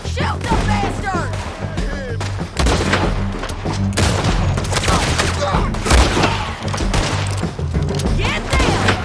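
Heavy gunfire in a video game shootout, dense bursts of loud shots and booming impacts crackling almost continuously through the whole stretch, with shouted voices mixed in among the blasts.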